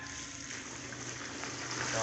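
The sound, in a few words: water being poured out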